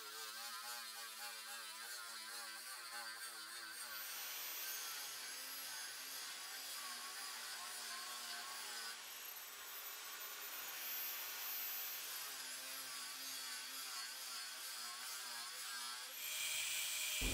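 Cutting 1.5 mm brass sheet into blanks for a fishing spoon lure, a steady buzzing saw-like rasp that runs nearly the whole time, close and fairly even in loudness, with no talk.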